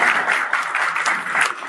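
Hands clap in a quick, even rhythm, crisp and fairly close, for a couple of seconds.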